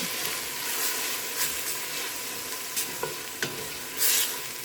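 Garlic and ginger sizzle in hot oil in a pan for an udon chicken soup, a steady frying hiss broken by several sharp scrapes and clicks of stirring.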